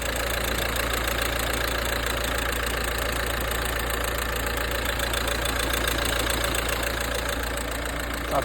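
A 2019 Renault Kangoo 1.5 K9K diesel engine, around 220,000 km, idles steadily with a low, even knocking rumble that holds constant throughout.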